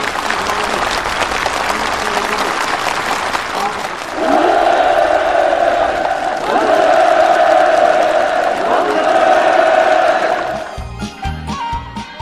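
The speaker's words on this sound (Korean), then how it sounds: "참가자들의 열렬한 박수 속에 전달됐습니다" A large crowd at a housing handover ceremony in North Korea breaks into loud, sustained applause that swells and continues for several seconds before cutting off.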